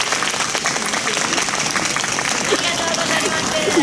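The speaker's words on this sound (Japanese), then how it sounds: "皆の者、拍手じゃ。" A festival crowd at a winter samurai and ninja stage show at Centrair airport breaks into sustained applause, a thick, continuous patter of many hands that stays loud throughout.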